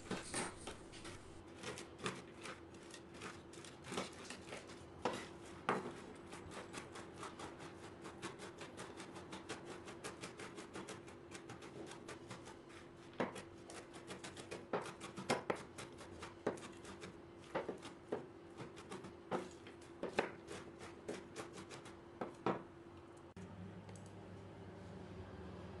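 Walnuts are chopped finely by hand with a knife on a board, producing a long series of quick, sharp, irregular taps and knocks, fairly close and sometimes bunched in rapid runs, with no talk.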